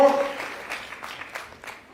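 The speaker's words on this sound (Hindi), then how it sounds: "एक बार ताली बनती है, जोरदार ताली" An audience claps at a Women's Day celebration, a short burst of applause that begins under a voice and thins into a few scattered, fading claps.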